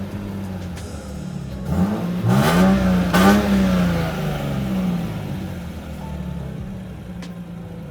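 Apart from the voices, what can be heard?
Lexus IS200 engine revving at idle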